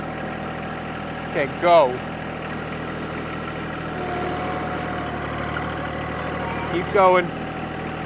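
A John Deere 2025r compact tractor sits buried in mud in four-wheel drive with the diff lock on, its engine running at a steady low idle while people call out brief instructions over it.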